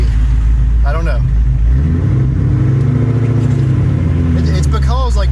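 A Whipple-supercharged car engine cold-starts and rumbles, a deep, loud idle that swells into a rev midway, with people talking over it.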